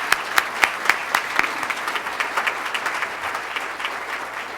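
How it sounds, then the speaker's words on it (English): A room of attendees at a Rotary Club of Tulsa meeting gives a round of applause for Ron Butler and Mac Finlayson. The clapping is steady and fairly close, with a few sharp individual claps standing out at the start. "Could we give them a round of applause?"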